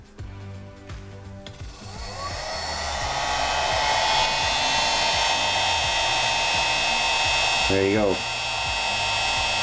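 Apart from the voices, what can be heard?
heat gun blowing hot air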